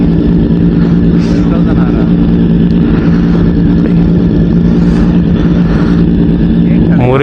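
A Triumph Street Triple motorcycle on a Sunday morning superbike ride near Krishnagiri gives a loud, steady, close exhaust rumble that holds throughout with little change.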